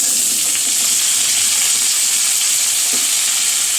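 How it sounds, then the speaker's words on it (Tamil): Steady, loud sizzling of shallots and vegetables frying in a hot pan, with faint stirring scrapes. "சின்ன வெங்காயத்தை நல்லா ஃப்ரை பண்ணிக்கலாம்."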